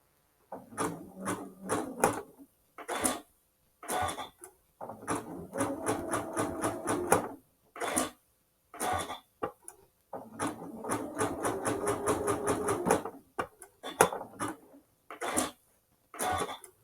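Sewing machine stitching a quilt block in short bursts, each run of stitching starting and stopping with quiet pauses between, close and clear.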